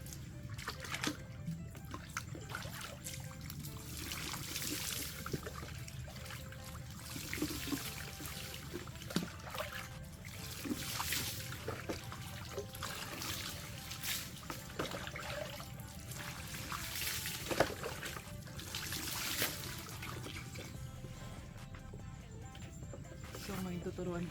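Water splashes and trickles steadily during a bath, poured in repeated splashing bursts over about twenty-four seconds, with a voice talking over much of it.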